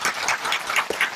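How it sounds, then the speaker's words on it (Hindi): An audience at an Ayurveda training camp session claps, with scattered hand claps rising and falling unevenly throughout and a brief louder accent near the end. "वैसे ताली बजाइए आप एक बार"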